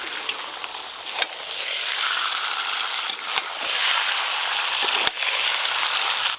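Pieces of chicken hit a pan of fried ginger, garlic and onion for chicken dum biryani, producing a loud, steady hiss and crackle with a few sharp clicks of utensils, close up and without talking.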